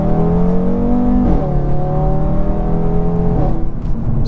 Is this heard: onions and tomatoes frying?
no